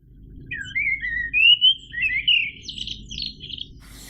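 A blackbird sings a flowing, whistled phrase of several notes rising and falling, clear and fairly close against quiet low background hum.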